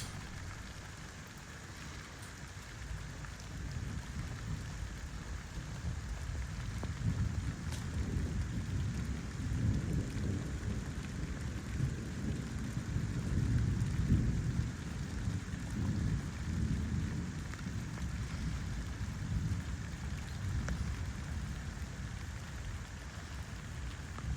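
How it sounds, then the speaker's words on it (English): Rain falling on the rooftop of an old house under renovation in Italy, a steady dense patter and hiss that swells slightly midway, with low rumbling underneath and no talking. "let me leave you with a little ASMR of raindrops on our rooftop"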